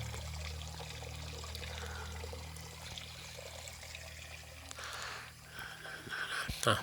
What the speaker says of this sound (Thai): เนี่ยน้ำจะออก คล้ำคล้ำเขียวๆนะครับ